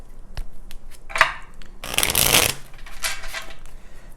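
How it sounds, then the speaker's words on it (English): A deck of tarot cards is shuffled close by, with a few quick riffles and one long dense burst of flapping card noise in the middle, with no talking. "I feel like I need a shuffle."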